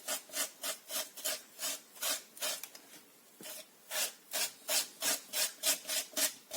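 A hand tool scrapes texture paste off a stenciled surface in steady, rhythmic strokes, about a dozen close, quiet rasping passes with a brief pause midway.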